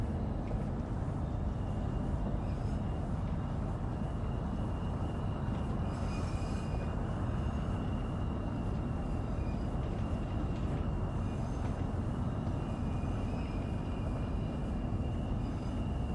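A Class 395 train in Train Sim World 6 runs steadily throughout, giving a continuous low rumble and wheel roar at a constant level, with faint higher squeals and tones above it and no talking.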